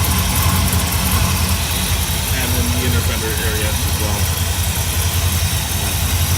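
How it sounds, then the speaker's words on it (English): A 1955 Chevrolet Bel Air V8 engine idles steadily and loudly with a constant low rumble, while someone talks over it close by. "Engine running very smooth."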